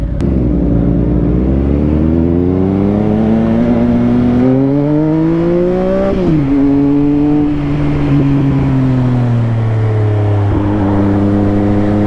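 A Triumph Street Triple R motorcycle engine revs up and down loudly and close, its pitch rising, dropping sharply, then settling into a steady high drone on a Central London street.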